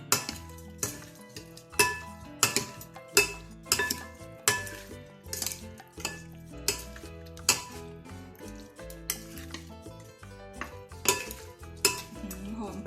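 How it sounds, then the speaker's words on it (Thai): Seafood salad ingredients with fish sauce and seasoning being mixed in a bowl, with steady clinking and scraping of a utensil against the dish in repeated rhythmic strokes, close and fairly loud. "ผสมให้เข้ากันนะคะ"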